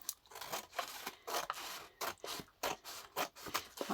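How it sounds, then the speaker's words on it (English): Scissors trimming flaps off a paper envelope, with about a dozen quiet, close crisp snips and slicing rasps in an irregular rhythm. "So what I'm going to do first is just to trim these flaps off that were part of the original envelope"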